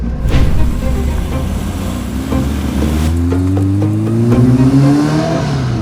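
An Ariel Atom 4R engine revs up through rising pitch sweeps while driving, loud and close, with the engine note climbing steadily before easing off.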